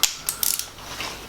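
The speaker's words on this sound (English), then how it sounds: "As he torques it down, it's going to squish that plastigauge" A torque wrench tightening the crank bearing cap of a Ferguson tractor: a short run of quick ratcheting clicks, close and fairly crisp, over a low workshop hum.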